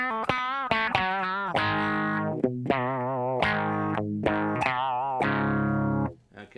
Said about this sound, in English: There's like your envelope type sound.